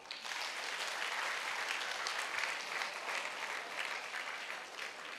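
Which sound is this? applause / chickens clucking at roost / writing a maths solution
applause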